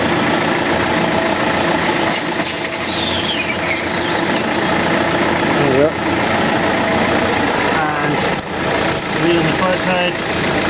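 A car's engine runs steadily with a raised wheel spinning freely, giving a continuous hum with faint squeals, on a car being readied for electric conversion; someone talks over it.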